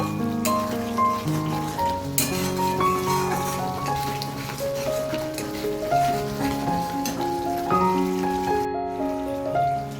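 Chicken frying in oil with masala in a pan, a steady crackling sizzle throughout, with music playing over it.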